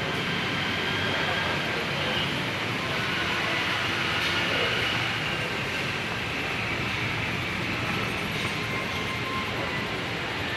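KRL commuter train pulling into the platform at Juanda station in Jakarta at night, a steady broad rumble and hiss of the arriving train filling the whole stretch, with faint station ambience.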